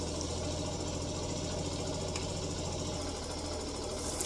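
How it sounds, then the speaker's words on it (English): Zontes G1 125cc motorcycle engine idling: a steady, close mechanical hum and patter at constant pitch, continuous and unchanging throughout. "Engine's on."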